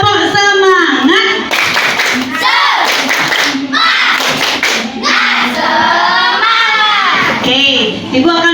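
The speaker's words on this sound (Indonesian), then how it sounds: "Tepuk semangat." Children in an Indonesian primary classroom perform a rhythmic 'tepuk semangat' spirit clap, patterned bursts of hand claps mixed with loud chanting voices, filling the room for several seconds.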